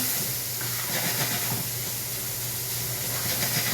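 Bacon sizzles in a pan for a cheesesteak, a loud, steady, close hiss of frying fat filling the whole moment with no pauses.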